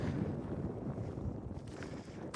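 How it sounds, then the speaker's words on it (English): Summer wind in the Arizona desert near a creek buffets the microphone in a steady low roar, with gusty rumble throughout and no speech. "A bit windy."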